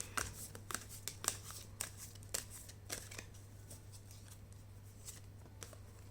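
Tarot cards are gathered and handled by hand, a series of quiet, crisp flicks and slides in an irregular rhythm, close and faint over a low steady hum.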